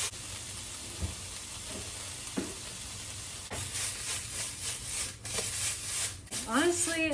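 A stir fry with noodles sizzling in a hot pan, a continuous close hiss with periodic stirring scrapes, building louder toward the end, while a person talks over it.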